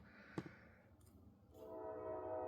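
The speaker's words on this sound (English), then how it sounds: "That's a train, by the way." A train sounds its horn in the distance, a faint, sustained tonal blast rising over quiet background rumble near the end, following a couple of soft knocks.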